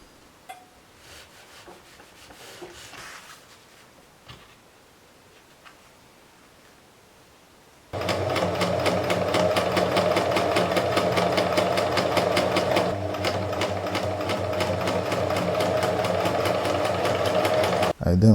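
After a quiet stretch of faint handling sounds, a sewing machine starts up and stitches the top edge of a fabric bag with a loud, steady, rapid whir and chatter that continues to the end.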